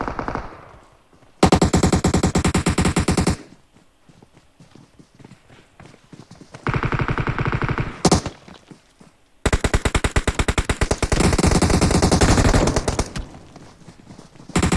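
Gunfire in the mobile battle royale game PUBG Mobile: loud bursts of rapid automatic shots in three long strings separated by quieter gaps, with occasional single cracks between them.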